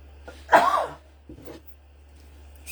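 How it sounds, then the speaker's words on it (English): A single sharp cough, or a throat clear, bursts out close to the microphone, followed by a fainter second catch of the throat and a brief rustle near the end, against quiet room hum. "So what happens when I talk too much? I cough."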